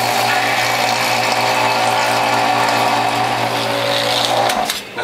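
Electric juicer motor straining loudly while juicing leek, a dense, steady grinding whir that holds for several seconds before easing off at the end, close and without speech.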